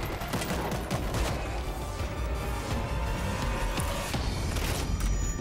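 Dense gunfire crackles in the zombie shooter World War Z, a loud continuous mix of rapid shots and impacts with no pause across the whole stretch.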